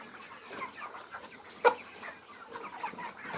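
Chickens cluck softly and irregularly in a coop, one of them slightly ill with a cold, with a single louder sharp squawk midway over a quiet background.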